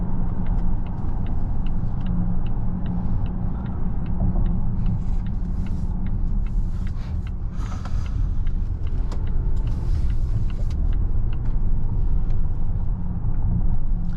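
Inside a 2025.5 Volvo XC90 T8 AWD Ultra under acceleration, a steady low road-and-drivetrain rumble fills the cabin at constant loudness, with faint ticking and rustles above it.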